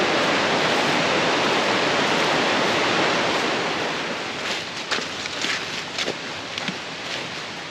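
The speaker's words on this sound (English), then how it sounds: "Check out the stream on my left." A mountain creek rushes steadily beside the Bradley Fork Trail in the Smoky Mountains, a loud broadband wash of water close by that eases slightly toward the end as faint footsteps sound.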